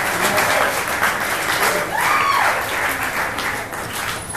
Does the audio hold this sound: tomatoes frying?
no